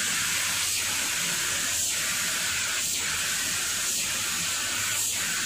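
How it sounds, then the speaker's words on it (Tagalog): A spray can spraying paint, a steady loud hiss near the microphone running without a break, with faint periodic pulses in the spray. "Tamtaman lang din ang hangin natin ng spray can mga lods."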